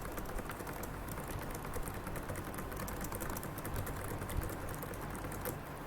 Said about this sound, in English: I am typing some random text over here.